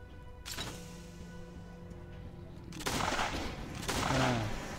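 A rocket launcher fires at a furious giant in a corridor in the survival game Last Day on Earth: Survival, with three sharp blasts at intervals over a low background hum, the later two louder and followed by crashing debris.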